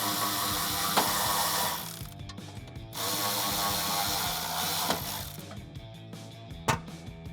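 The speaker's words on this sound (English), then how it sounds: "I'm going to use an extension with my 10mm socket, and I can tighten them down with my ratchet" A ratchet with a 10mm socket and extension tightening bolts on a 2015-2020 Ford F-150 center console lock vault, heard as rapid close clicking in several bursts separated by short pauses.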